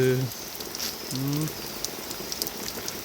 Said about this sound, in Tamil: இப்படி வருது மழை என்ன பண்ணுறது